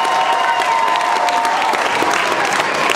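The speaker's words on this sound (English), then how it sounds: "How about a round of applause, folks?" A crowd applauds at a Tuff Trucks off-road truck event in Chehalis, Washington, after an old Jeep's run: dense, steady clapping with some cheering that holds at an even level throughout, with no talk over it.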